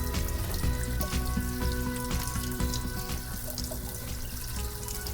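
Cashews rinsed under running water from a faucet, a steady close splashing and rushing stream with faint clinks, continuous throughout.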